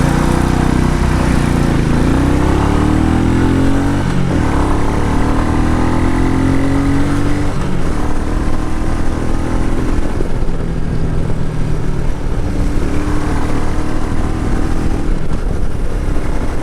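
A 2020 Royal Enfield Meteor 350 BS6 motorcycle engine thrumming loudly and steadily while riding, its pitch rising and falling with several gear changes and throttle shifts, with wind noise and no talk.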